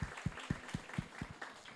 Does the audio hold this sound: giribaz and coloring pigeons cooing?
no